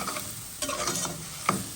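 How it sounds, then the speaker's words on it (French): Shrimp and bitter melon being stirred in an oily frying pan, a sizzling scrape of the utensil with a few sharper clinks, close and steady with no talking. "Mélangez bien."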